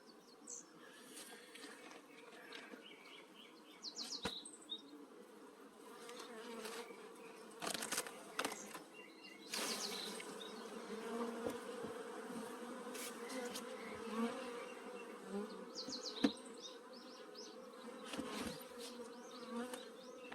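Ordinary honeybees buzz continuously at a beehive during a royal jelly test, a dense close hum with occasional louder passes of individual bees and faint bird calls.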